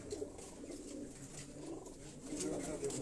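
Kasuri pigeons give soft, low, rolling coos, close by and fairly quiet, over a faint background murmur.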